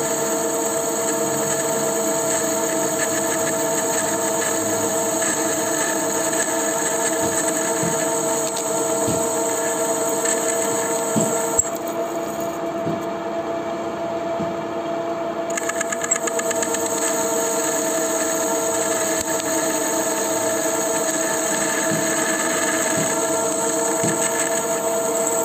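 A lathe turns a motorcycle magnet from a Yamaha Jupiter, humming with a steady mechanical drone and a high-pitched whine throughout, loud and continuous with small shifts in tone.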